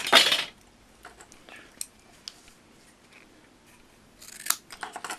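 Excess paper clip wire snipped for a homemade motor, a loud sharp cut at the start followed by faint handling clicks and another cluster of small metallic snips and rustles near the end.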